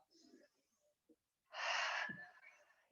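A sharp inhaled breath during a yoga stretch in a sculpt-and-flow class, a single loud, breathy intake lasting about half a second, preceded by faint quiet sounds.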